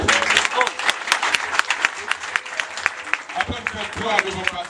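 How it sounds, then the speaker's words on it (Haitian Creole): An audience at a live music showcase claps continuously in a dense patter of many hands, close and fairly loud, with voices mixed in. "on applaudit!"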